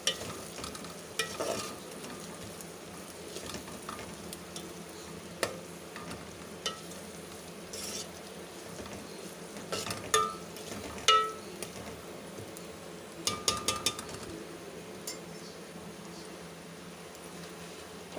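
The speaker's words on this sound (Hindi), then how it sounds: "अब हम इन मसालों के साथ प्याज को अच्छी तरह भून लेंगे।" Onions frying with crushed red chili and spices in a pan for tomato onion chutney, a soft steady sizzle with occasional light stirring scrapes and taps, faint and continuous.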